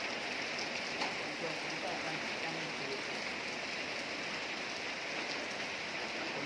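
Dense, steady rainfall hissing continuously, a heavy downpour close by with no letup.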